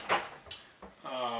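IKEA kitchen drawers in a tiny house slide and knock shut in a few quick, soft thumps. A low voice runs underneath and some faint hum follows.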